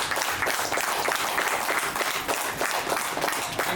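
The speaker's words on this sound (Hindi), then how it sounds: "एक बार जोरदार तालियां इस प्यारी संस्था के लिए होना चाहिए" Loud, dense applause from a large audience at a leaders' meeting, a continuous roar of many hands clapping without a break.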